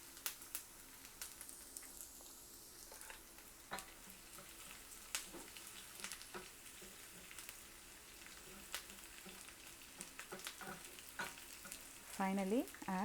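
Chopped green chilies, curry leaves and ginger sizzle in a hot oiled pan, a steady close crackle with repeated scraping stirs, and a louder burst of spattering near the end.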